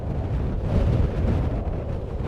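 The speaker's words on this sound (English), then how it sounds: "It is blowing a hoolie." Strong wind buffets a camera microphone in a quarry, producing a loud, continuous low rumble and roar with uneven gusty surges throughout and no other sounds.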